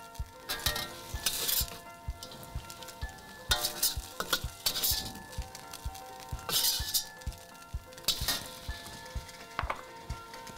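Beef in soy sauce sizzles in a hot wok while a utensil stirs and clinks against the metal in irregular bursts, close and fairly loud, with no voices.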